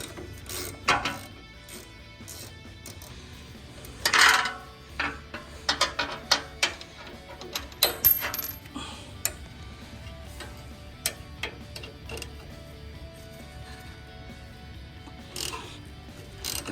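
A cross-threaded bottom bolt is worked out of a boat trailer brake caliper with a ratchet, giving irregular clicking and grinding bursts, close and fairly faint, with quiet pauses between the turns.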